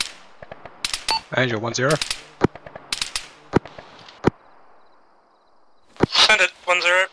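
Sharp gunshots crack in the Arma 3 video game, a scattered series of single and doubled reports near and fairly loud, interleaved with radio-style voice chatter at the start and end.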